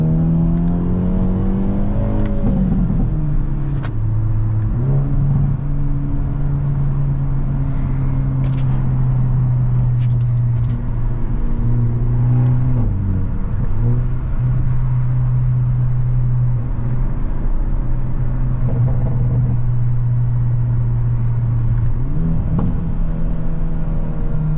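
A 2023 Hyundai Elantra N on a test drive, heard from inside the cabin: a loud, continuous engine drone rises and falls as the revs change with gear shifts, with exhaust rumble and no talking.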